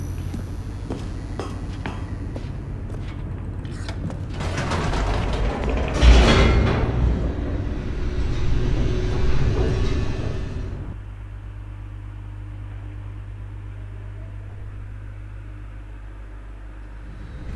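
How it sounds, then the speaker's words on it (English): An elevator descends in The Stanley Parable 2, a loud mechanical rumble with creaks and grinding clanks that swells for several seconds before cutting to a low, steady hum. "The elevator raced downward, plummeting towards an unknown fate."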